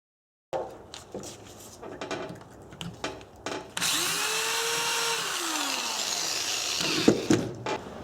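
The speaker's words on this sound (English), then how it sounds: "and just slowly drill out" A power drill whirs in short bursts, then runs steadily with a rising and falling pitch as 7/64- and 1/8-inch bits drill out a broken metal ABS sensor inside a steering knuckle, with clicks and handling noise around it.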